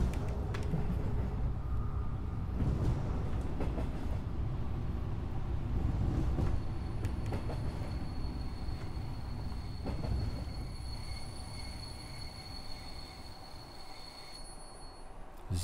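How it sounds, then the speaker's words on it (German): A train in Train Simulator 2022 pulls into Wildau station with a steady low rolling rumble and faint high wheel squeal. The rumble slowly eases as it slows. "Einfahrt in den Wildauer Hauptbahnhof"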